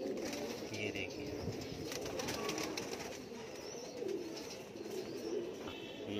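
Teddy pigeons coo softly in repeated low throaty calls from close by, alongside faint rustling and occasional wing movement, while someone speaks over them.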